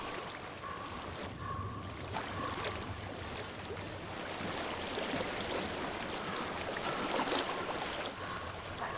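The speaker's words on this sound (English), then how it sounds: "I hear water." Flowing water in the video game Hellblade: Senua's Sacrifice, a steady broadband rush of a stream or river, soft and continuous with a faint wind-like hiss, no talking.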